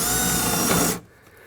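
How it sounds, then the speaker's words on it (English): A regular (non-hammer) power drill bores into brick behind a deck railing post, a steady loud grinding whir that runs for about a second and then cuts off abruptly. "You want to drill right into the brick."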